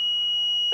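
A digital multimeter emits one continuous high-pitched beep while measuring resistance on a Vizio M492i-B2 TV power supply during repair, loud and steady, ending with a brief click.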